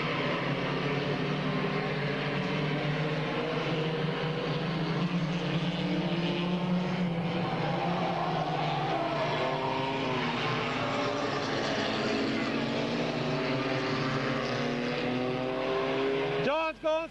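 Race cars competing at Midvale Speedway, a dirt oval, roar continuously as a pack of engines drones and shifts pitch, with a track announcer's voice running over the top for most of the stretch.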